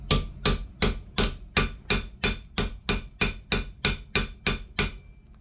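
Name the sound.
hammer crimping 18 gauge copper wire hearts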